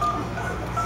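A phone dialing out to a roadside assistance line, a short burst of quiet touch tone beeps lasting under a second.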